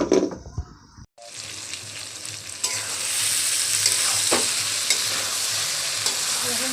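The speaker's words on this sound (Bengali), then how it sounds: "এরকম করে অল্প অল্প জল ছিটা দিয়ে দিয়ে নাড়াচাড়া করতে হবে" Tripe (bhuri) sizzles steadily in a pan as it is stirred, with a little water sprinkled in; after a brief quiet start, a loud, continuous hiss and crackle fills the rest with scraping stir strokes.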